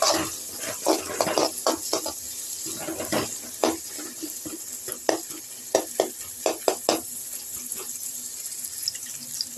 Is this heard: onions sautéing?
yes